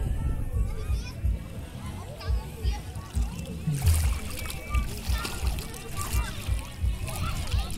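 A young girl swimming in a shallow lagoon at Arraial do Cabo, steady rhythmic splashing and sloshing of water close by, under near-constant encouraging adult talk.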